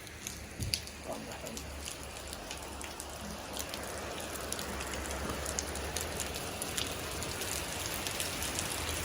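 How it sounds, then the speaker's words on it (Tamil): Misty rain falls over the hills of Ooty as a steady, dense hiss of drops pattering on surfaces, close and continuous throughout with no clear breaks. "அது கூட அந்த மிஸ்ட்டு ரெயின் எல்லாமே சேர்ந்து வரும்போது இன்னும் அழகாக இருக்கும்."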